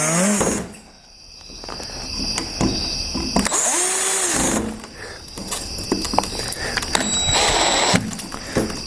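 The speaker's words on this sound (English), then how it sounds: "Let me just get these back screws in." A power drill drives screws back into the lock of a sliding glass door. Several bursts of whirring and ratcheting are separated by brief pauses, loud and close, with no talking.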